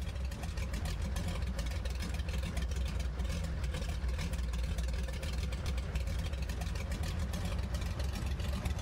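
Twin radial engines of a Grumman JRF-6B Goose amphibian rumble steadily at low power while taxiing in Microsoft Flight Simulator, a continuous close, throaty drone with a fine rapid pulsing texture and no talk.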